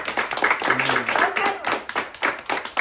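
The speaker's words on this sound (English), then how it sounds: "Does that deserve a round of applause?" An audience claps at a sales team meeting, a busy patter of hands mixed with cheering voices and someone speaking over it, steady and close throughout.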